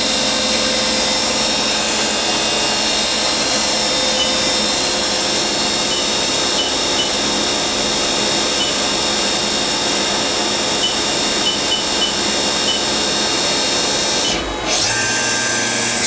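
Spindle of a Haas DT-1 drill and tapping center spinning at speed, a loud steady high-pitched machine whine with layered tonal hum, sustained throughout, with a short shift in pitch near the end.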